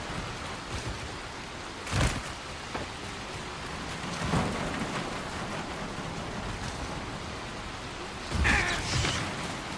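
Rain falls steadily in the video game Dying Light The Beast, a soft continuous hiss with a few louder bursts like distant thunder rumbles, fairly quiet overall.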